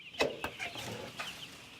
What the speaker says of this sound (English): This hangar is being used to raise chickens.